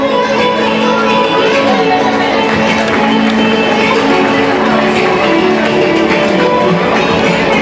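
An audience claps at a prize distribution ceremony for a children's drawing competition, producing a dense, steady wash of applause and crowd noise that holds throughout without a break.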